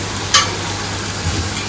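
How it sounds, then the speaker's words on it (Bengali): Onion and garlic fry in a pan, a steady close sizzle with one quick scrape of stirring near the start. "পেঁয়াজটা আর রসুনটা ভালো করে ভাজা হবে"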